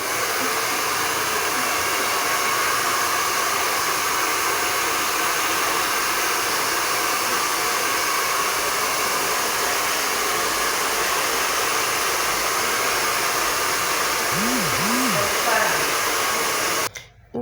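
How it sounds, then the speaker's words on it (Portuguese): A Taiff Style 2000W hair dryer runs steadily at close range, a loud constant broadband whoosh with a few brief faint tones near the end before it cuts off abruptly. "Eu vou testar ele aqui pra vocês com barulho, pra vocês verem a altura"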